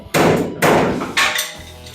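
A hammer taps metal body panels on a chopped 1950 Ford Shoebox during welding work, three close, sharp knocks with brief ringing decays.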